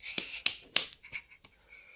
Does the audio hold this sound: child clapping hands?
yes